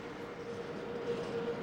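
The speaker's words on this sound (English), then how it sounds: "We're travelling on board this, the country's most famous train. It's called the Blue Train and it's heading northeast." South Africa's Blue Train rumbles along the rails in a steady low drone, with a faint tonal whine running through the continuous rolling noise.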